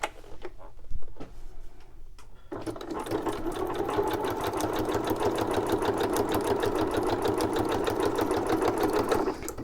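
A sewing machine stitching a zigzag while sewing tags: a few faint clicks and handling sounds, then the motor starts into a fast, steady, close mechanical chatter that runs evenly to the end, with no talking.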